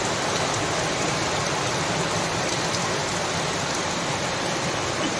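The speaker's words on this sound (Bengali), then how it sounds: "দেখতে পাচ্ছ কত জোর বৃষ্টি হচ্ছে" Heavy rain pours steadily onto a waterlogged yard, a dense, constant close roar of falling water with no let-up and no voices.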